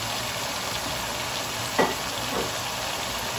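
Carrots and zucchini sizzle steadily in a hot pan, an even, close hiss of frying with a brief stirring clink partway through and no talk.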